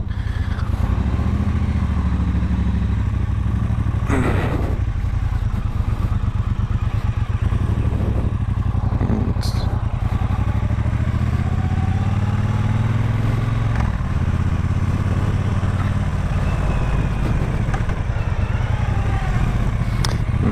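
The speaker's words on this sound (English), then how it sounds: "See, the bike runs like super smooth." A 2017 Triumph Bonneville Bobber motorcycle runs steadily while being ridden, its loud, continuous engine rumble holding close throughout, with gear shifts and a few brief clatters and wind bursts along the way.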